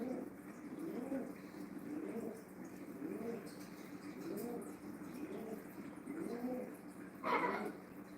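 A pet pigeon cooing indoors, soft rhythmic coos repeating at roughly one-second intervals, close but quiet, with a brief sharper sound near the end.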